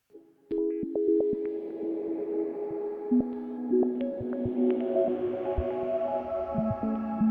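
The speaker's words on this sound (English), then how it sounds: "add a shimmer reverb." Sustained synth pad tones layered with a shimmering shimmer-reverb wash; notes step and overlap in a slow evolving pad.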